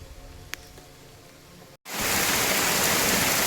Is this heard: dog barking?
no